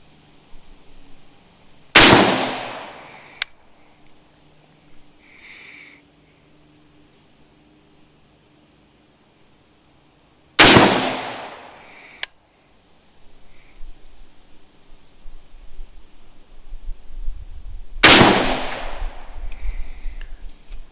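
Rifle shots fired downrange at a target during a comparison of Trybe Defense and Aero Precision uppers: three sharp, loud cracks spaced about eight seconds apart, each with a quick decaying tail, over quiet outdoor background.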